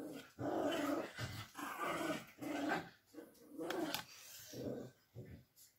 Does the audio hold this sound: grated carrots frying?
no